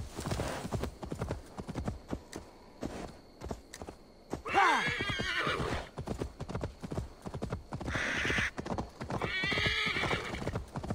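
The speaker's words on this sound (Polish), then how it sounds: "Dobra, koń musi odpocząć trochę." Horse hooves clip-clop in steady galloping rhythm in Assassin's Creed Valhalla, with loud whinnying neighs breaking in twice, close and prominent over faint background.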